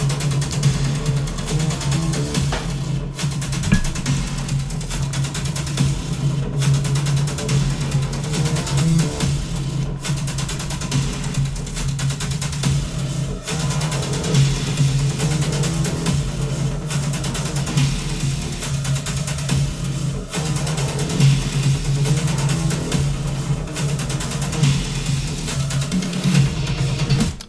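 A synth break from the DOOM Eternal soundtrack has dense, gritty electronic textures with a low droning bass. Regular sharp gaps and pulses mark out a driving rhythm, steady and loud with no guitar or voices.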